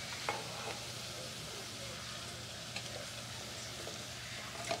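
Black beans and chickpeas being stirred together in a hot pan for tacos, with a soft continuous sizzle and occasional faint scrapes of the spoon, quiet and close.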